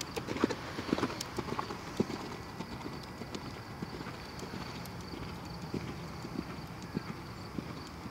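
A horse canters in a round pen, its hooves beating a steady, rhythmic clip-clop on the ground throughout, fairly close and continuous with no clear talk.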